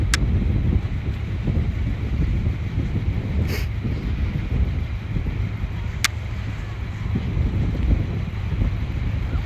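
Strong wind buffets a drone flying high over a ski resort, a constant broadband roar with gusty rumble throughout and a couple of brief sharp ticks, no talk heard.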